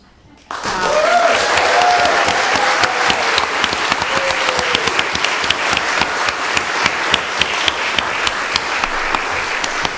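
Sustained, loud applause fills a hall at a literary festival's 30th anniversary celebration for a small press, steady clapping from a large audience after a sudden start, with a few cheers and murmurs inside it.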